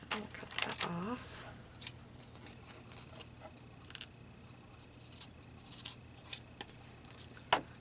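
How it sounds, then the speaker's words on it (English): New scissors snip through ribbon in a handful of quick, crisp cuts, sharp clicks spaced irregularly over a quiet room with low background hum. "So far, my new scissors are doing okay on ribbon and stuff."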